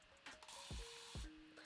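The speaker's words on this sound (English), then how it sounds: "sometimes I need something that just spray directly where I need it" A handheld spray bottle spritzes water onto natural curly hair in several quick, close bursts, two of them sharper hissing pumps with a faint mechanical click as the trigger works; quiet, with no talking.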